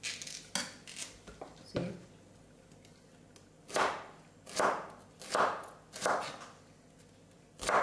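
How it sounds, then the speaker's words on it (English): Knife chops on a cutting board while preparing ingredients for moru curry, a yoghurt curry: a few brief voiced words and clatters first, then a steady run of crisp, close, evenly spaced chops. "But now you can chop it using the cutting board."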